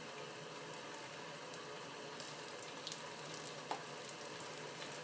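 Dumplings browning in a frying pan give a faint, steady sizzle of hot oil, with a few small pops and crackles rising over the constant hiss, heard from a distance and without talk.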